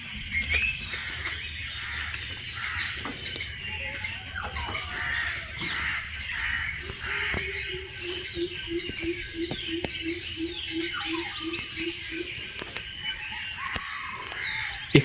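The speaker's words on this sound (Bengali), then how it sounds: "সকালের ঘুমটা ভেঙেছে আসলে এখানকার যেই পাখি রয়েছে, পাখির কিচিরমিচির শব্দে।" Crows caw repeatedly while smaller birds chirp in sharp, scattered calls over a steady background hum on a morning at a lakeside eco resort, the cawing fairly close and rhythmic in the middle stretch.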